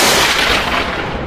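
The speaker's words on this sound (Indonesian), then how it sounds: "Sebuah ledakan besar terdengar di langit." A big explosion bursts in the sky, a loud, dense, rumbling blast that fills the moment and fades only slightly toward the end, with no voices.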